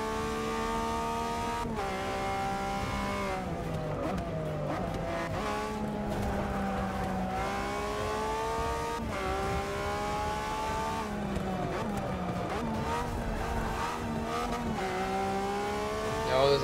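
A Pagani Zonda race car in Forza Motorsport 6 accelerates through gears, its engine whine climbing steadily with brief dips at each shift and occasional tire squeal, loud and continuous with no talking.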